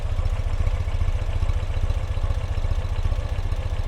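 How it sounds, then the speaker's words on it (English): A 2016 Ural Limited Edition Ambassador motorcycle idles close by, its twin exhaust mufflers giving an even, rhythmic popping pulse that holds steady throughout. "You can hear the even symmetrical pop from the exhaust mufflers."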